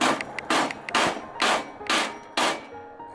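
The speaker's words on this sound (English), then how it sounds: "I'm going to try to hammer and film at the same time." Repeated sharp hammer strikes nailing the corners of a wooden frame, about six blows in a steady rhythm, close and loud, with a faint ringing between hits.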